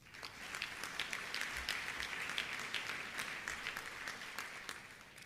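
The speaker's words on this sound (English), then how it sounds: "Please give yourself a round of applause." A large crowd at a formal dinner event applauds, with brisk, dense clapping and distinct sharper claps standing out, steady and fairly distant-sounding.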